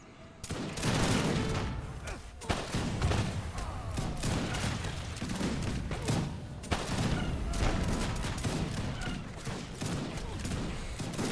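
Gunfire crackles through an Age of Empires 3: Wars of Liberty battle as dense, continuous volleys of musket shots and scattered booms, with commentators talking quietly underneath.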